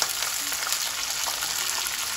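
Ginger garlic paste frying with turnip and meat in a pan, a soft steady sizzle and crackle throughout with faint stirring sounds.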